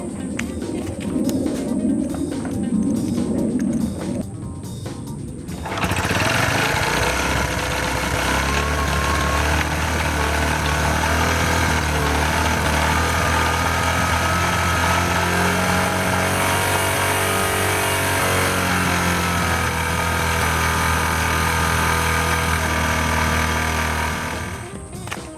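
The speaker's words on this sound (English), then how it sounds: "Wow, that's a big difference with that air fuel mixture." Engine idling while its carburetor air-fuel mixture is adjusted, starting after some light background noise and then running loud and steady, with subtle shifts in tone as the mixture changes.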